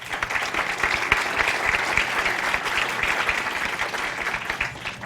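Sustained, dense applause from an audience welcoming a speaker at a legal conference on criminal tax reforms, steady and fairly loud for about five seconds with no voices over it.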